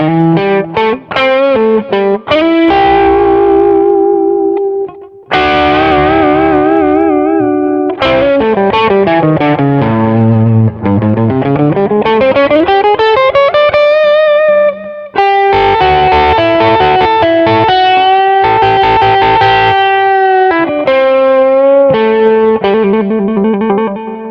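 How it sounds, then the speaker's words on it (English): Electric guitar through a Klon overdrive effect on a Positive Grid Spark practice amp, playing chords and melodic runs with a warm, slightly gritty crunch, loud and continuous with brief pauses between phrases. "let's hit it up with the Klon drive"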